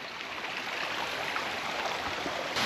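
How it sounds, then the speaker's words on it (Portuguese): Steady broadband rush of a waterfall, Cascata das Lajes, swollen by recent rain, heard close and continuous with no voices over it. "chegamos aqui já na cascata da Laja, das Lajes"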